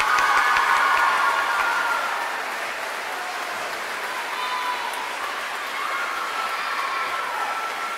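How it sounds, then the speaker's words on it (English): An audience applauds at a school Veterans Day program, a dense clapping roar that is loudest at first, then eases slightly and continues steadily across the whole stretch. "Let's give him a round of applause"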